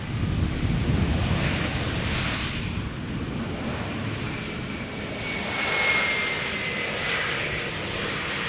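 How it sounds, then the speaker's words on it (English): An Airbus A320neo arriving from Reykjavik touches down at Schiphol Airport, its jet engines giving a steady loud roar with a thin whine that swells and fades, plus some wind buffeting. "Arriving from Reykjavik in Iceland, the A320neo flight 460, now touching down after 2 hours and 39 minutes."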